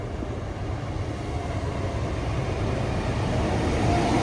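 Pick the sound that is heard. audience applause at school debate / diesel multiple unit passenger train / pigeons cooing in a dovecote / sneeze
diesel multiple unit passenger train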